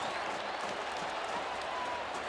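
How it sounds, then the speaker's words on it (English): Dense, steady roar from a college football stadium crowd at a Florida Gators versus LSU Tigers game, broad and continuous for a couple of seconds with no breaks. "And the fans are booing"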